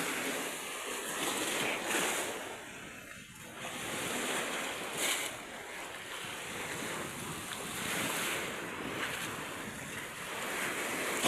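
Waves rolling and washing ashore in repeated surges, with steady wind buffeting the microphone; no voices.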